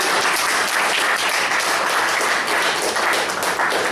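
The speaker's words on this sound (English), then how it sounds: "good round of applause to Toastmaster" A full round of applause for the Toastmaster at a club meeting's evaluation session, steady thick clapping from a roomful of people that continues unbroken and loud for the whole stretch.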